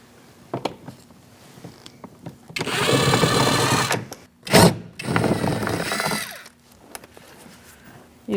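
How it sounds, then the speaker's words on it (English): A power driver with a T27 Torx bit backs bolts out of the front door panel of a 2000–2006 Mini Cooper, running in two sustained whirring bursts with a short sharp burst between them and quiet pauses before and after. "We're going to start with a T27 Torx bit, and we're going to take out these 3 bolts."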